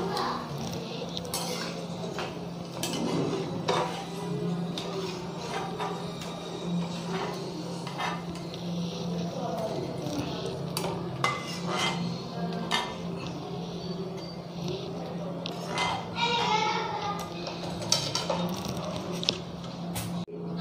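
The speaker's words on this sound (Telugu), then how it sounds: "చూడండి ఇప్పుడు తీసేస్తున్నాను అండి, వేగాయి కదండి తీసేస్తున్నాను." Fried soya pakodas being lifted out of a pan of hot oil, with steady metallic clinks and scrapes of a utensil against the pan over a continuous frying sizzle, close and fairly loud, no talking.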